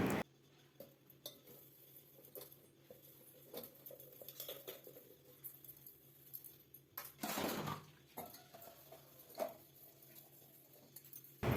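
Dishes and pots clatter and clink in a sink, with scattered metallic knocks and a brief rush of running water, no voices.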